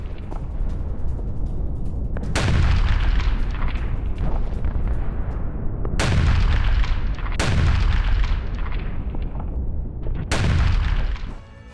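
Deep booming blasts from an Iskander missile strike on a weapons train, four loud explosions spaced several seconds apart, each a sharp crack rolling into a long low rumble over continuous heavy background roar.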